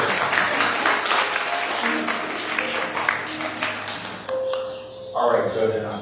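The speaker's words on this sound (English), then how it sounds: "Let's give a round of applause for our volunteers." Church congregation applause for volunteers at a Sunday worship service, a steady burst of clapping that fades near the end as a chime-like tone and other sounds take over.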